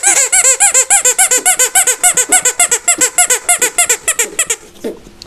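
A red soft squeaky toy dog is squeezed over and over, giving a fast, regular train of about two dozen loud, high-pitched squeaks, close up and alone, that stops abruptly at the end.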